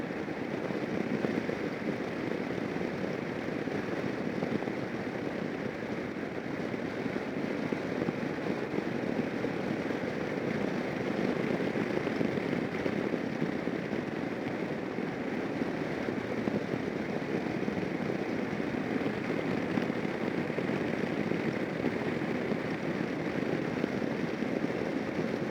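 A 2011 Kawasaki Versys motorcycle engine pulls in 6th gear, a steady broadband drone with wind rush that holds even and unbroken throughout, no voices.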